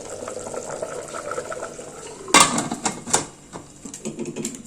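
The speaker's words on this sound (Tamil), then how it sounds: "நல்லா தலை கொதிக்க ஆரம்பிச்சிச்சு." A pot of vegetable rice bubbles at a low simmer, with a sudden clatter of a lid and a few knocks before the bubbling continues.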